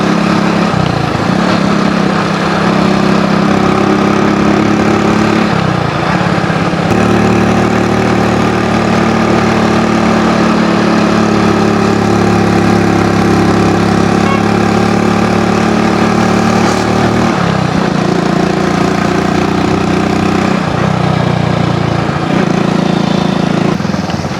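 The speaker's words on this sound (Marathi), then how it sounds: "पॅशन पण बुलेट सारखे फटाके मारायला लागले." A Hero Passion motorcycle engine runs with a loud, steady, close-up drone, its pitch dipping briefly a few times, with no talking over it.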